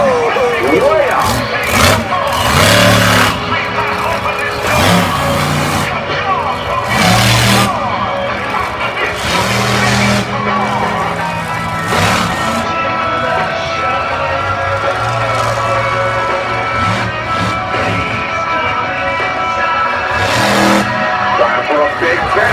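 Monster truck engine revving hard during a freestyle show at an arena, repeated loud roaring bursts rising and falling, with an announcer talking excitedly over the noise throughout.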